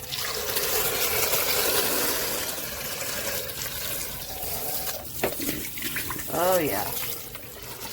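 Water runs from a tap while a part of a Eureka corded stick vacuum cleaner is washed out, a steady splashing stream that later turns more uneven, with a person briefly speaking over it.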